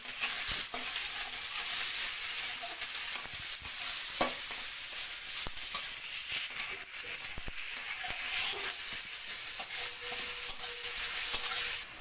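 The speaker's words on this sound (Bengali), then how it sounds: "পেঁয়াজটা লাল লাল করে ভেজে নেওয়া হবে" Onions frying in a pan until reddish-brown, a close, continuous hissing sizzle with soft scraping stirs breaking through at intervals.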